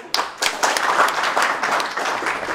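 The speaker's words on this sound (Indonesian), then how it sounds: "Boleh tepuk tangan?" Studio audience applause on a television talk show, a brief burst of clapping that starts sharply and stays full and steady throughout, with no talking over it.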